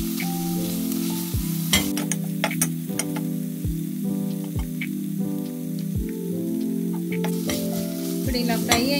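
Curry leaves frying in oil in a pan for South Indian curry leaf rice, a steady crackling sizzle with recurring scrapes and knocks of a spatula, close and loud.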